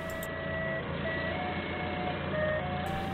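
A steady, repeating electronic beep tone pulses over a constant low engine rumble as a forklift reverses into an underground parking garage on a rainy day.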